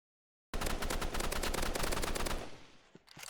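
Rapid automatic gunfire in a Roblox shooter game, a dense burst of shots lasting about two seconds before cutting off, followed by a few faint clicks and a loud sound at the very end.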